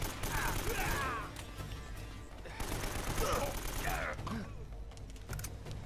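AK rifle fire in the video game Uncharted on PS4: rapid bursts of automatic gunfire with echoing reports, mixed with game effects and someone talking over the action.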